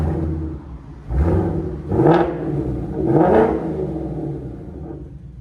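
A 2024 Mustang GT with a Borla cat-back exhaust revs three times in a row, each a deep, rumbling swell that climbs and falls back to a steady idle, close and loud.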